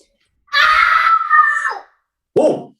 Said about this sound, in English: Those yells got to be the strongest today.